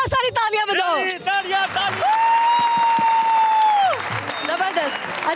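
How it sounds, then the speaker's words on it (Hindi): Crowd clapping and cheering from a live audience at a Lahore Rang stage show with Cholistani performers, a broad steady wash of applause throughout, mixed with whoops, a long sustained voice or whistle tone in the middle, and speech at the start. "बस बहुत सारी तालियां बजाओ।"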